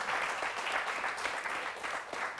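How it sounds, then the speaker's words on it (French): Church audience claps together in sustained applause, a steady, moderately distant patter of many hands with no talk over it. "Je vais acclamer."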